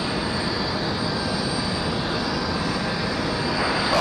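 A Delta airliner rolls for takeoff on runway 23 right at Raleigh-Durham, a steady, loud broadband engine roar that holds level throughout and swells slightly at the end.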